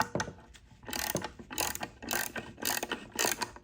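Socket ratchet clicking in short repeated bursts while tightening bolts on a power steering pump during a rebuild, close and fairly loud with brief pauses between strokes.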